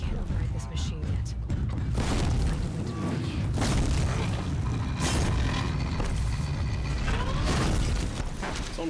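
An explosion in Horizon Zero Dawn: loud booming blasts and crashing mechanical clatter over a continuous dense roar, with several sharp hits spread across the stretch.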